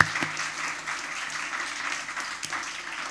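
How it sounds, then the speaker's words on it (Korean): A church youth congregation applauds to welcome new members, a moderate, even round of clapping heard from within the room, with a couple of sharp knocks standing out. "우리 새가족들 정말 환영하는 마음으로 박수 한 번 더 보내겠습니다."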